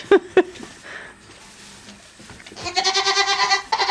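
Goats bleat on a farm: two short loud calls at the start, then a longer, strained bleat rising near the end, with quiet rustling in between.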